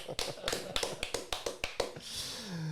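Studio audience applauds Delphine with a run of about a dozen sharp, evenly spaced claps close by, then a brief softer tail with a faint voice.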